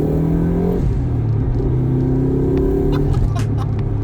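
A Subaru Impreza WRX engine revs and accelerates loudly from inside the cabin, its droning tone rising in pitch, dipping briefly, then climbing again.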